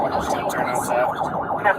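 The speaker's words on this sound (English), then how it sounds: "the sirens fucking worked this time" A police siren wails during a pursuit, a fast warbling tone rising and falling at moderate volume under car and radio noise.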